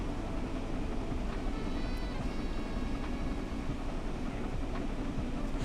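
A train in Train Sim World 4 rumbles along with a low, steady rolling drone and faint clanks and squeals from the wheels, continuous and moderately loud with no speech.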